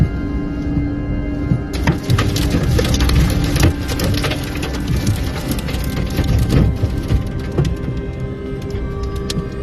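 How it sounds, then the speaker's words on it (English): Heavy rain pours down in a dense, continuous hiss with splattering impacts, loud and close, no voices. "floods are attacking due to torrential rain for many days"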